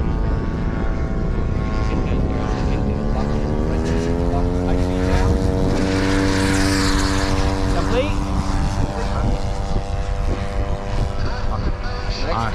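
Radio-controlled P-47 Razorback model airplane taking off at a flying competition, its engine a steady loud drone with rising and falling pitch as it passes, continuous throughout.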